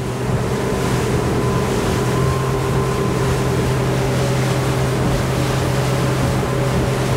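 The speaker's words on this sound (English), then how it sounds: "I'm gonna give the engine a couple of degrees of engine trim up." A 2021 Nimbus T9X motorboat with a 300 hp outboard runs at speed with its engine trimmed up a few degrees, giving a steady loud engine drone with hull and water rush throughout and no talk.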